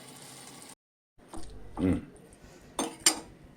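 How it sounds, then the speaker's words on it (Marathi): Lid set on a pot of raw jackfruit curry to steam it, with a couple of brief metallic clinks and clatters of cookware, quiet and close, after a short pause. "आणि या भाजीला आता झाकण ठेवून पाच एक मिनिट वाफ काढून द्यायची"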